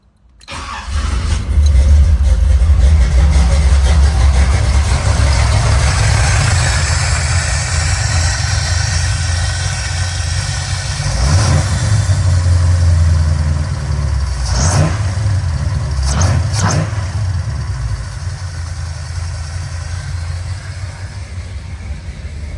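A car engine with only two of its fuel injectors working cranks and starts, then settles into a loud, rough, steady idle close by, with a few brief revs near the middle and toward the end. No voices.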